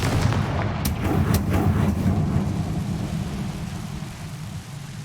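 A Confringo fire spell blasts in the video game Hogwarts Legacy, giving a loud, steady low rumble with a few sharp cracks near the start that slowly fades over several seconds.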